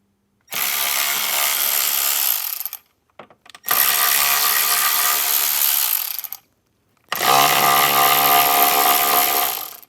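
A ratcheting wrench backs out screws from the factory speaker pod on a 2024 Jeep Wrangler JL, three sustained bursts of close, buzzing ratchet clicks separated by short pauses.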